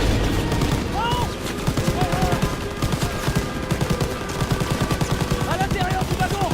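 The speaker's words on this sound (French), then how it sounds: "C'est pas encore fini! Mitrailleuse!" Heavy machine gun fire in the World War II shooter Call of Duty WWII, a dense, loud stream of rapid rattling shots over steady in-game battle noise.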